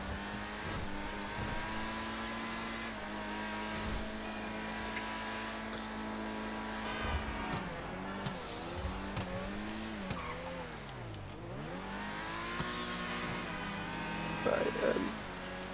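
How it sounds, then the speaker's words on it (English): New DLC car engine in a racing video game, revving up and down with rising and falling pitch sweeps, some tire squeal, loud and continuous throughout. "it's just the engine noise and the raw noise of the engine is incredible"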